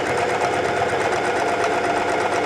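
A sewing machine runs steadily and loudly, stitching down a one-centimeter fold on a sleeve edge of a self-drafted top, its fast even needle rhythm continuing alone without pause.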